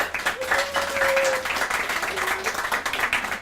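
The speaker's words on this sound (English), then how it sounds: "Let's have a hand for Jessica." An audience applauds for Jessica at a 10-year anniversary poetry evening, a sustained wash of clapping from a room full of people with a brief whistle-like tone riding over it.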